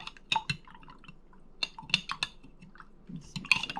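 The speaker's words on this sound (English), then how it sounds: "Basically you're just going to stir it until all the honey is melted in the hot syrup." A spoon stirring honey into hot homemade elderberry cough syrup, heard as scattered soft clinks and sticky liquid dabs against the container, close and quiet with no voices.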